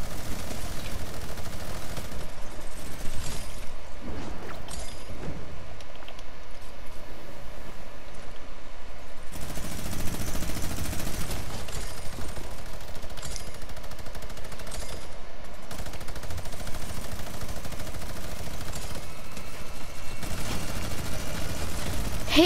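Sustained rapid automatic gunfire in a first-person video game, a minigun in a loadout-swap match, roaring continuously and loud with brief gaps near the start and around ten seconds, plus sporadic impacts.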